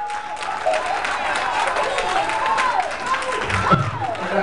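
A church congregation claps hands in praise, a steady wash of applause with scattered cheers and a raised voice over it, sustained throughout.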